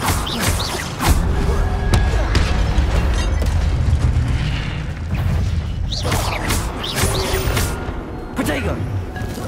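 Incendio fire spell bursting in the Hogwarts Legacy video game, a series of loud booming blasts and crackling impacts at close range, mixed with a voice calling out.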